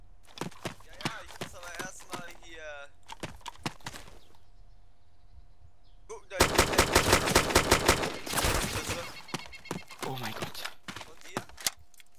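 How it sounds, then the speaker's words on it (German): Gunfire in the video game DayZ comes as scattered sharp shots followed by a loud rapid burst of automatic fire, with more isolated shots afterward, while players talk over the action. "Ich habe auf ihn geschossen, er auf mich."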